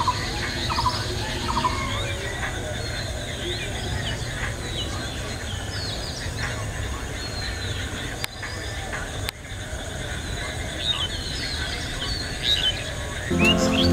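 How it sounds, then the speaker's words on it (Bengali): Bulbul birds perched on a power line in a rural village call with loud, shrill squeals and chirps over a steady outdoor background, with their repeated calls continuing throughout. "দেখুন বুলবুলি পাখির কত সুন্দর একটি মুহূর্ত।"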